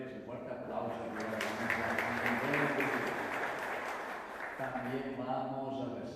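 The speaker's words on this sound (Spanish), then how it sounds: "un fuerte aplauso" A church congregation at Mass applauds together, steady clapping from a crowd in a reverberant space, with a voice speaking over it near the start and again toward the end.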